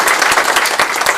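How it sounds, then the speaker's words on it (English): An audience gives a round of applause at a seminar, a dense, steady wash of many hands clapping together, loud and continuous through the short stretch with no gaps. "give yourselves a round of applause"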